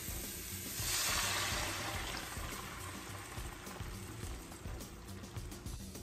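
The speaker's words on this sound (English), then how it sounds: "Now it's time to add the stock back." Stock poured into a pan of butter-sautéed mushrooms, giving a steady wash of sizzling and liquid hiss that swells early on, then settles into a continuous simmering crackle.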